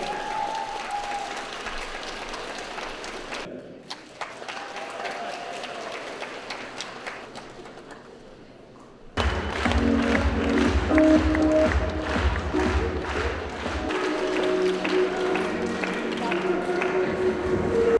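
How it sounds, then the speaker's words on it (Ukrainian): Applause from an audience at a Lviv award ceremony for teachers, continuous clapping that drops briefly, then returns louder and fuller with some cheering and tonal sounds mixed in. "Оплески!"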